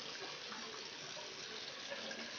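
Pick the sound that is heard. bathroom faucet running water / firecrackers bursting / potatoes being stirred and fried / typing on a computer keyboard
bathroom faucet running water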